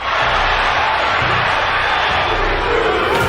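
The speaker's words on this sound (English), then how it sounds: "Crowd chanting, Duke, Duke, Duke." A boxing arena crowd chants a fighter's name during a heavyweight bout involving Tommy Morrison, a dense, loud, continuous roar of many voices filling the whole stretch.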